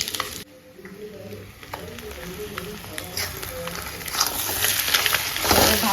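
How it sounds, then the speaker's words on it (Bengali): Spiced potato and egg fry in a pan with a continuous close sizzle, with scattered scrapes and taps of stirring and a hiss that grows louder toward the end. "এটা যে একটু ভাজা ভাজা হয়ে যাবে সেই সময়টা ভাত দিয়ে দেবো"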